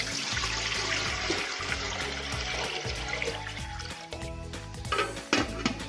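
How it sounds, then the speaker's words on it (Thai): Water pours steadily into a cooking pot with a continuous splashing rush, over a low background hum. "เทน้ำลงไปเลยค่ะหนึ่งกาละมังนะคะ"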